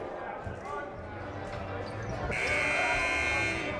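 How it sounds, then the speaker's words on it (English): A loud, sustained electronic buzzer sounds in a high school gym during a boys' varsity basketball game, starting partway through and droning steadily over crowd murmur and ball bounces. "Didn't want to have to talk over that buzzer"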